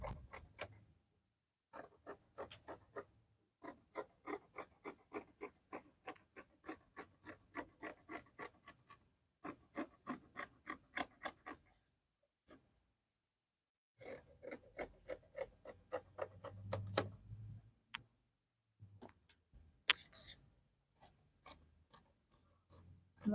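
Scissors cut through fabric for a flare dress, close and crisp, with long runs of rapid rhythmic snips broken by short pauses and a few scattered clicks.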